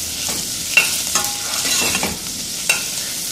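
Butter heating in a pan on lowered heat, a loud continuous sizzle with scattered scraping stirs and clicks of a utensil, close, with no voices.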